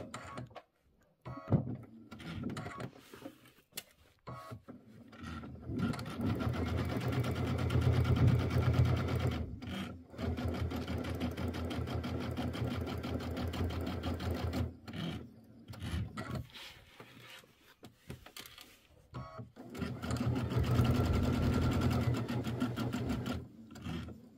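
A sewing machine stitches a Kimberbell mini quilt, running in three long steady bursts of rapid mechanical whirring, broken by short pauses and small handling clicks, with no speech.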